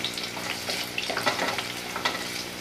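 Thin potato slices fry in oil with a close, continuous crackling sizzle broken by small pops and stirring scrapes, and no voice is heard.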